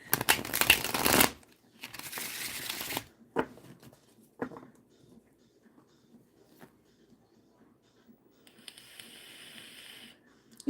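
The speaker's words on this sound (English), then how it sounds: "she couldn't shuffle cards anymore, so I became the card shuffler" A deck of playing cards is shuffled in two brisk riffling bursts, followed by a few scattered taps and rustles from handling the cards. A faint steady hum runs underneath.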